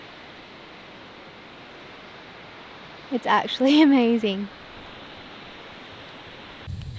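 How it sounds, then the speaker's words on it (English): Wallaman Falls in Australia, a powerful single-drop waterfall, roars as a steady broadband rush heard from a lookout, continuous and even beneath a brief spoken remark. "you can just hear the waterfall"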